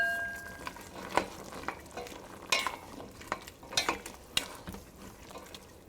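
Vegetables such as florets and green beans are stirred in a pan with a utensil, giving irregular scraping and clattering strokes over a faint sizzle, close and moderately loud, with no talking.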